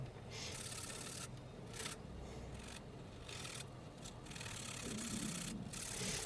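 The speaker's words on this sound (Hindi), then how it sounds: "ये आरी की मदद से मैं ये चूल इसकी काट रहा हूँ।" Steady rhythmic rasping of a hand saw cutting through wood, a continuous back-and-forth scrape heard up close, with brief pauses between strokes.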